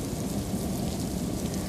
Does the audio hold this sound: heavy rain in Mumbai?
yes